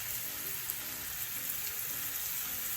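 Onions with black pepper and garlic powder frying and caramelising in a pan for a cheese and onion tart, giving a continuous close sizzle with faint crackles and pops and no speech.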